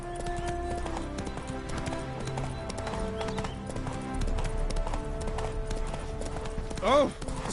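Roach the horse's hooves clip-clop under game music in The Witcher 3, a steady walking rhythm with voices talking over it and a brief rising tone near the end.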